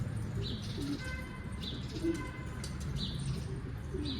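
Pigeons coo softly in short, repeated calls, with faint chirps and light background noise around them.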